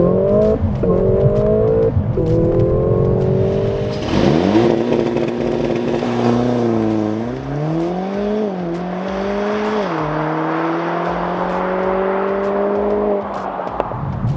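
A Mercedes-AMG GLA 45 accelerates hard under launch control, its engine revving loud and close through several upshifts, each gear's rising tone dropping sharply and then climbing again, with no voices.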